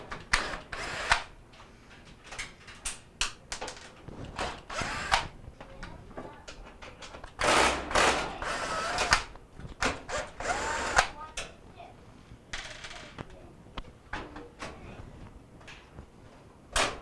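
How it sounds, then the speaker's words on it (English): Phillips screws being removed from the back panel of a KitchenAid stove, with bursts of a small power driver whirring and clicking, intermittent metallic handling noises between them, and someone talking now and then. "there's 4 Phillips screws that we got to take off to access the control panel"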